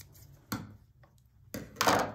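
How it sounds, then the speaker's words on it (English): Scissors snip twice through the tentacles of a craft jellyfish, two sharp close cuts about a second apart with a faint rustle between them. "I need to trim some more of the tentacles off"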